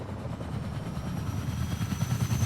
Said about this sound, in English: they were just hopping back in the helicopter and just fly away